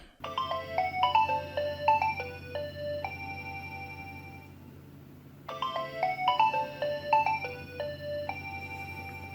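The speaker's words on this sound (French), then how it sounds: "la sonnerie de Nokia par défaut" The classic Nokia ringtone melody plays twice, bright electronic notes in a quick repeating phrase, with a brief pause between the two rounds.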